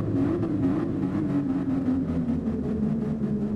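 Toyota Supra engine in GT Sport, a steady droning hum held at constant revs, loud and close with a faint wavering texture, no voices.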